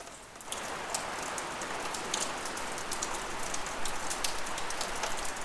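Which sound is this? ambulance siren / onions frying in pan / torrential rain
torrential rain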